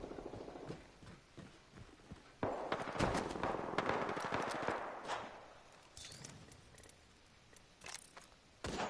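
Gunfire in Apex Legends, with quiet bursts of rapid shots and scattered cracks, some in quick clusters, over a soft game background.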